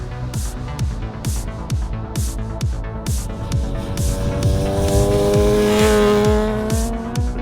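Kawasaki ZRX1224RR modern classic road racer motorcycles rip around a track, engines revving hard in rapid repeated bursts with gear shifts, loud and close.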